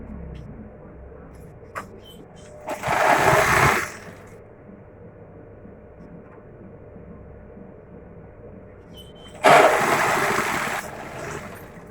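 A sewing machine stitches a dress lining in two close bursts, a whirring run of about a second early on and another near the end, with quiet pauses between.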